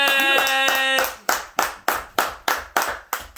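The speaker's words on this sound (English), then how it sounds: "please give a big warm round of applause for my boy Chris Virag." Sharp, evenly spaced hand claps, about eight in a steady beat, ring out loud and close for a talk show welcoming a guest. A brief tonal sound comes first, and the claps follow alone.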